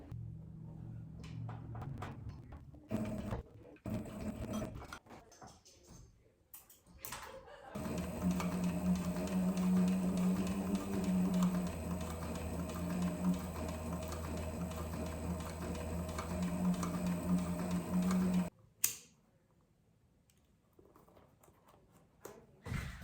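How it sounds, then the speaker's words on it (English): A sewing machine winds thread onto its bobbin while a leather arrow quiver is being made, a steady mechanical whir with a strong low hum running for about ten seconds after some short handling clicks, then stopping abruptly. "I just ran out of bobbin thread, so I'm just going to refill that"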